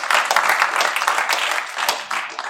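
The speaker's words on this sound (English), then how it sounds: "Please give them a round of applause." Audience applause at a conference stage, a bright, dense burst of many people clapping together, loud and close, lasting throughout without speech.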